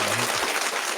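Canned applause fired from a soundboard button during a podcast, a short, dense burst of clapping and cheering that fills the moment at steady loudness.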